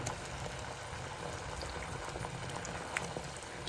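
Spicy fish curry boiling in a pot makes a dense, continuous bubbling and simmering hiss, close and even throughout with no talk.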